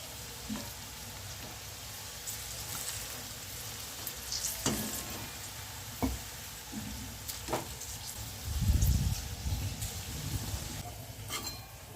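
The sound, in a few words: okra frying and being stirred in a kadai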